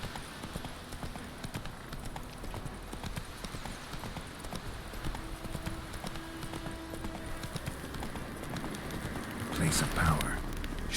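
The horse Roach galloping in the video game Witcher 3, a steady rapid clip-clop of hooves running on without pause under a low ambient rumble, with a brief louder burst near the end.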